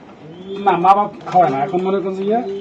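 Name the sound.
racing pigeons cooing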